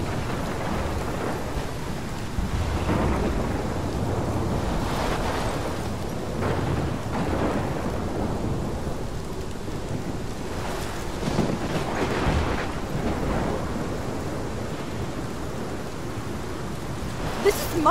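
A thunderstorm with heavy rain in the video game Life Is Strange, steady loud downpour and wind with rumbling thunder swelling several times, alone with no talk.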